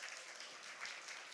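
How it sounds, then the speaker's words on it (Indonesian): Audience applause at a Cloud DevFest 2025 keynote: a steady wash of many hands clapping, fairly distant and soft, sustained throughout without a break. "Tepuk tangan dulu untuk kita."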